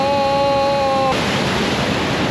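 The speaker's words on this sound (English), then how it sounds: "There's a little turnoff for this waterfall right here." A flowing waterfall at a roadside turnoff along Highway 395 in the Sierra Nevada gives a loud, steady broadband rush throughout, briefly overlaid by a few sustained steady tones that cut off midway, with no voices.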